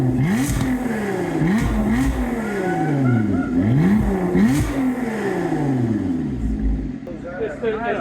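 A Lotus Emira in track mode, fitted with a cat delete exhaust and valve controller, revs repeatedly with rising, snapping engine sweeps and crackles, loud and close, while people talk over it.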